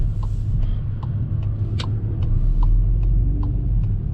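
A 2019 Škoda Kodiaq RS SUV on a test drive gives a loud, steady low engine and road rumble heard from inside the cabin, with faint periodic ticks over the drone.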